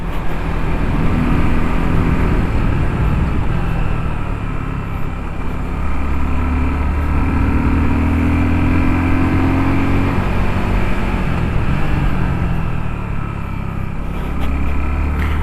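A Suzuki Gixxer 250 SF motorcycle rides through curves on a hilly road, its engine droning loud and steady under heavy wind rush, with the pitch rising and falling gently through the bends.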